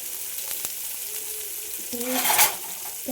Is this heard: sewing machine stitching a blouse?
no